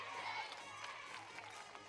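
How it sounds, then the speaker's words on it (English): Spectators at a prep baseball game in Eagleville chant in the stands, a sustained crowd roar with rising voices that runs steadily through the short stretch. "the Eagleville crowd chanting Eagle Nation"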